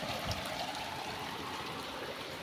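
Water flows steadily through a damaged gutter in a rice field, a continuous close trickling rush with no talk over it.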